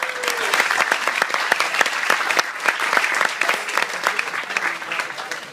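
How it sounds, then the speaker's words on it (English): Warm applause from a gathered audience for the Halsteads and the O'Keefes at a wedding celebration, steady dense clapping with a few sharp individual claps standing out, sustained at an even level throughout. "So please give them a round of applause."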